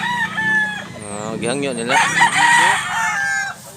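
A Hennie gamefowl rooster at a Cebu Mantalungon market crows once in a long, wavering call, close and loud, with someone talking over and around it.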